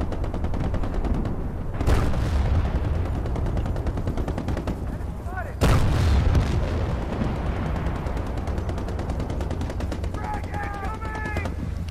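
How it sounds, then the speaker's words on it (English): Gunfire and explosions from the PS3 video game Battlefield 1943: a dense, steady rattle of shots with two heavy booming blasts near the start and middle, while a voice seems to speak faintly underneath. "explosions."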